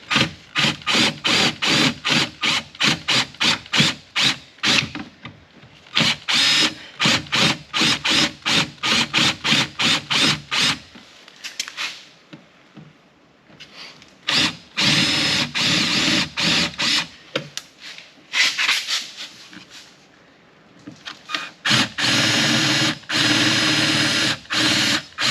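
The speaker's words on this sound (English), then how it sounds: "drill out the rivets." Power drill drilling out the speaker rivets in a VW Jetta mk6 door, loud close bursts of whirring that start and stop repeatedly, with short pauses and a quieter stretch in between.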